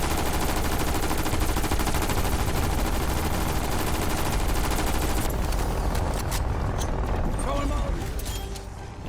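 Loud, dense artillery barrage in Call of Duty Cold War Zombies on the Firebase Z map, continuous booming and rapid explosive fire for most of the stretch, thinning slightly toward the end.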